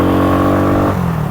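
An RPS Condor 150 motorcycle from 2024 revs close to the microphone. Its loose exhaust heat shield rattles within the thrum of the engine, and the pitch drops partway through.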